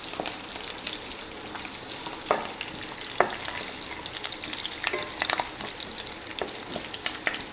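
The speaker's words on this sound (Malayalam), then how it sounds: "കുറച്ച് വെളുത്തുള്ളി, കുറച്ച് കറിവേപ്പില ഇതിട്ട് നല്ലവണ്ണം ഒന്ന് വഴറ്റണം." Garlic and curry leaves sautéing in a pan for brinjal pickle, giving a constant crackling sizzle with scattered sharp pops and stirring scrapes, close and fairly loud, no voices.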